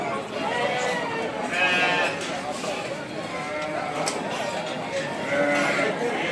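Sheep and goats, including Romanov sheep, bleating at an outdoor livestock market in Kadirli, Turkey, a continuous crowded chorus of overlapping bleats under someone talking nearby.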